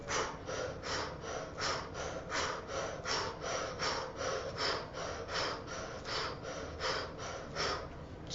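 Deep, rhythmic breathing during a guided breathing exercise, roughly twenty quick, even breaths in steady succession, close and fairly loud, with no talk over them.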